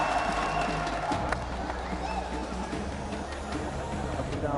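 A live crowd at a Fortnite Reload Championship esports event cheers for Team Orchid, a broad sustained roar of voices and scattered claps, with an announcer talking over it.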